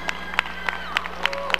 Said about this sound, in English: Please join me in a round of applause for our newest